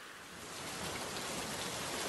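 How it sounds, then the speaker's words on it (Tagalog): Steady rain pours down in a dense, even hiss, rising slightly in strength, with no one talking. "Ay, patuloy pa rin ang pagbuhos ng ulan."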